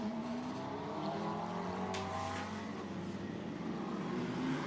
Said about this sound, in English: going down the pit lane is Mikey Porter in the Optimum number 5 McLaren